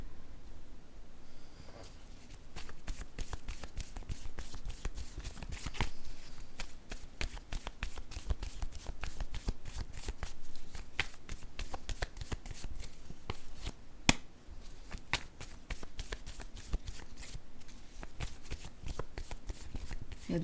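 A deck of cards being shuffled continuously at close range, rapid crisp riffling flutters repeating steadily throughout with no talking over it.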